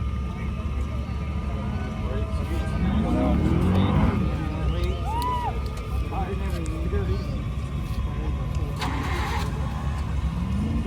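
An off-road vehicle with a carburetor engine roars loud and close as it makes a winch-assisted dead pull uphill, the drone holding steady throughout while people talk over it.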